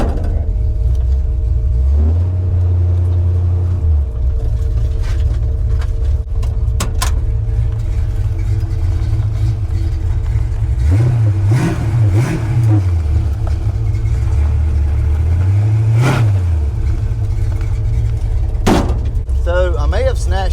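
A car with a possible gear-shifting problem rumbles steadily up close, then the engine revs up in a couple of distinct surges as it pulls away and accelerates.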